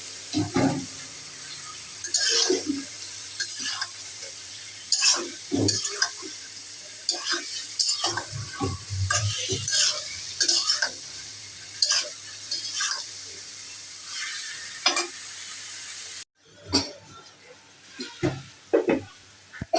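Raw banana curry with spices sautés in a pan, a soft sizzle punctuated by repeated scraping and clinking strokes of a spatula, with a brief cut near the end.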